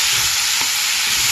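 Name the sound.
stirring cucumber drumstick tomato curry in pan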